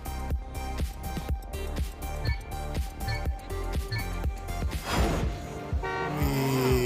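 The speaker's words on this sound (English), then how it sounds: "Also, there's a horn. Honk." Car horn in a racing video game, a rapid string of short tonal toots in an uneven rhythm, loud and close over game music, ending in a denser burst of sound.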